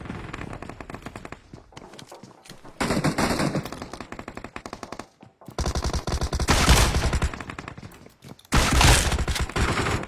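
Automatic gunfire in PUBG Mobile, loud and dense, with bursts of rapid shots over a steady game background and brief gaps between volleys.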